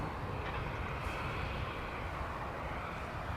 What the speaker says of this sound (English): see the Korean Airlines Flight 31 coming in from Seoul. This is Boeing 777.